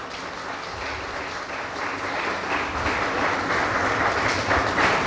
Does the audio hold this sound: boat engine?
no